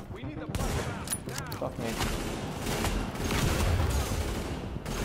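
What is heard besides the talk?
gunfire in video game The Division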